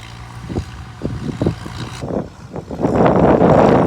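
An Oliver Super 66 tractor pulls a disc through a rutted field, its engine chugging in uneven low pulses that bog down and lug, then swell into a louder, steady roar toward the end.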